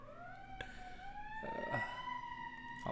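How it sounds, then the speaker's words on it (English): Several emergency vehicle sirens wail together in long sustained tones, distant and faint against background noise, with a few brief knocks partway through. "Oh, so many sirens."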